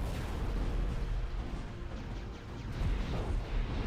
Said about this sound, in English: Likhos once again bombing.